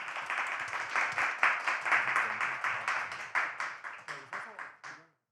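Applause from an audience welcoming a mentor onto the stage at a university student education-donation event, a steady patter of many hands that thins into a few scattered claps before stopping.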